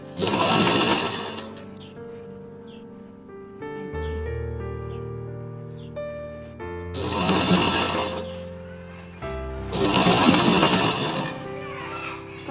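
Sewing machine stitching a blouse sleeve, slow runs of steady mechanical whirring in three loud bursts with quieter hum and clicks between, no talk.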